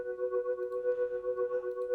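Keys chords made in FL Studio for a soulful Amapiano track, with a tremolo effect that pulses the sustained chord at a quick steady rate, clean and moderately quiet with no voices.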